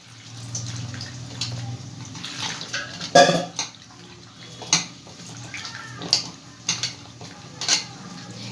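Mushrooms are washed by hand in a bowl of water, with soft repeated sloshing and splashing, a few clinks of the bowl, and a low background hum throughout.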